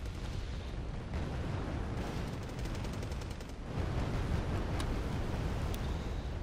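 Humvee-mounted grenade launcher firing in the war strategy game Wargame Red Dragon, a dense, steady roar of battle with continuous gunfire and blasts blending into a loud wall of combat noise.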